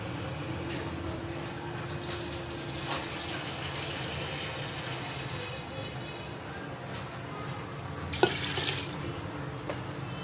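Water pours steadily into a pot for about ten seconds, a continuous splashing rush with a brief clatter near the end.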